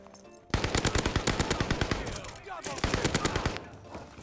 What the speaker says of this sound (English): this thing's actually insane though for an SMG.